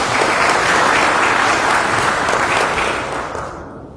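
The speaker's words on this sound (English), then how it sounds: "can we give him another round of applause?" Sustained, dense applause from an audience at a Nigerian Army gathering, honoring a major general, loud and steady throughout before thinning slightly at the end.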